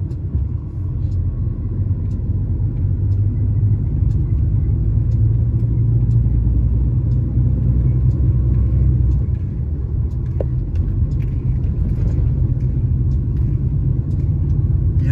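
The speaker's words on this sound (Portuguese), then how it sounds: "Caminhão que chama muita atenção por onde passa" Truck cruising on highway BR-316 in Piauí, a steady low engine and road rumble heard from the cab, continuous and even throughout with no talking.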